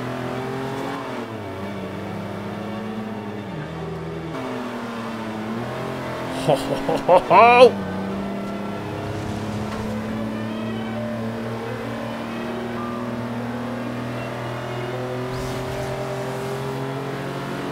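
A car engine hums steadily while driving in the video game Forza Horizon 2, its pitch rising and falling under music. Someone shouts briefly near the middle.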